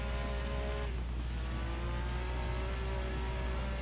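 A car engine revs and whirs steadily in the Driver San Francisco video game during a freeway chase, its tone rising and falling with a continuous drone and no talk over it.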